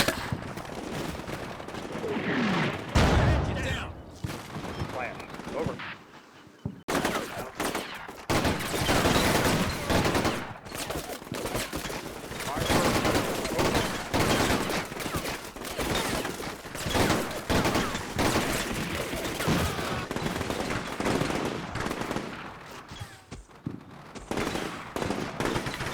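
In the Combat Mission Shock Force 2 video game, battle sounds run for the whole stretch: rapid machine-gun bursts and rifle fire mix with heavy booming artillery blasts, dense and loud, with only brief lulls.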